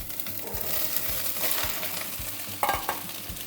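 Soya chunks fry in a spoonful of hot oil with curry leaves while a spoon stirs them, a steady sizzle broken by repeated scraping knocks against the pan and a sharper clatter near the end.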